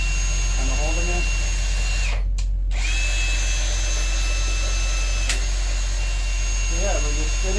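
A gearbox from a Nissan 280Z L28E, fitted to an S13 240SX, is spun by a drill-like power tool on its output shaft, giving a loud steady whine that briefly cuts out, with some speech over it.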